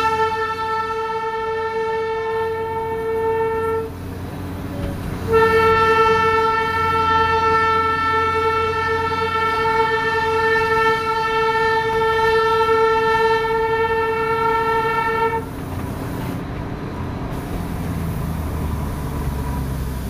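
The Darjeeling toy train sounds its horn in two long, steady toots, a short one and then a sustained blast about ten seconds long, over the continuous rumble of the train running along a winding hill track.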